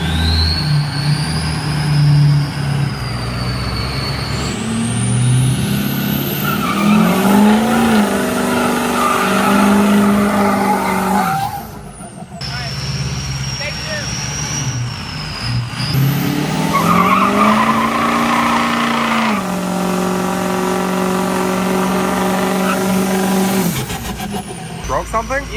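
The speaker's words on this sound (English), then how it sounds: "So I'm gonna try to do a donut in the 8 door if it starts." Large eight-door pickup truck doing donuts, with the engine revving and dropping in repeated loud surges and tires screeching and skidding, broken by brief pauses, while people talk over it.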